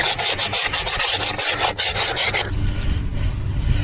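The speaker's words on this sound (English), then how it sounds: "now I start using the sandpaper. I go in here and start sanding away." Close, loud back-and-forth rasping of sandpaper on a wheel rim in quick regular strokes, then a steadier, duller rubbing toward the end.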